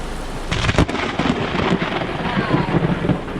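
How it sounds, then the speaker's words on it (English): Afternoon thunderstorm over a campground at Anastasia State Park in St. Augustine, Florida, with steady rain hissing throughout, a loud crack of thunder near the start and wind buffeting the microphone. "Now we're getting ready for the afternoon thunderstorm."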